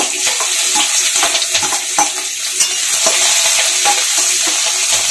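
Black cumin seeds, chopped garlic and chilli fry in hot oil left from frying aubergines for a Bengali tel begun jhal, giving a steady close sizzle with crackling pops and occasional stirring scrapes throughout.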